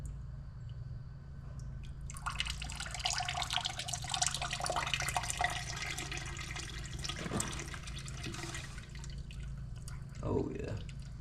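Liquid is poured into the engine of a Farmall B tractor under restoration, giving a steady, close splashing and trickling for several seconds before it tapers off into a few drips.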